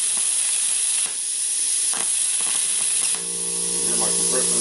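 Air compressor running in a workshop beside a Lotos LTP5000D plasma cutter, a constant loud hiss filling the background, with a person speaking over it near the end.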